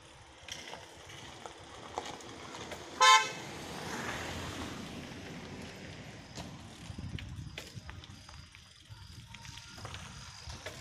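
A car on a rural road near Pirangut, Pune, heard from a bicycle: a short horn toot, then the vehicle passes close with a brief rise of road noise over a steady wind rush.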